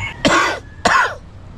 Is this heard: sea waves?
no